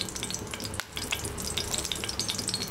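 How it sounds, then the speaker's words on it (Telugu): Asafoetida tempering in hot oil in a kadai for coconut chutney, a steady bright sizzle and crackle that runs throughout with a brief dip partway, close and fairly quiet, no talking. "ఆయిల్ వేసుకుని అది కాస్త వేడెక్కినాక ఇంగువ అనేది ఇష్టపడే వాళ్ళు వేసుకోవచ్చు"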